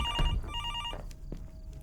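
A telephone rings in the horror video game F2F: Norwood Hitchhike, two short bursts of an electronic trilling bell with a pause between them, fairly close over a low room hum, followed by a couple of soft knocks.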